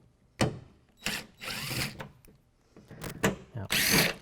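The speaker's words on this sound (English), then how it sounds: "we're going to remove the T30 Torx bolts that hold in the tailgate cap" Impact driver taking T30 Torx bolts out of the tailgate cap on a 2016 Toyota Tacoma, heard as several short whirring, rattling bursts separated by pauses, close and moderately loud.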